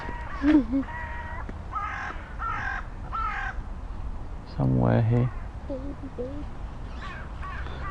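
Crows caw outdoors on a hot day, several harsh calls in short runs spread across the stretch, one loud close series in the middle, with people talking quietly now and then.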